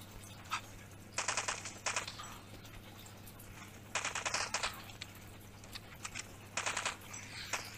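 Uzi submachine gun fire in the mobile game LifeAfter comes in short rapid bursts with gaps between them, moderately loud over a steady background hum.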